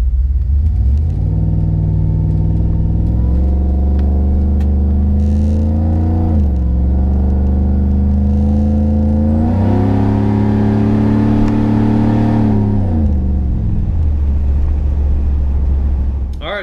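Supercharged Chevrolet Tahoe engine heard from inside while driving on the street, a loud steady rumble that rises and falls through several gear-like accelerations with a whirring supercharger note.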